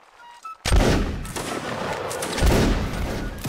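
A line of soldiers fires a musket volley in the Napoleonic Wars module of Mount & Blade: Warband. A loud, ragged burst of many overlapping shots starts abruptly, then a second swell of fire rolls on, dense and booming.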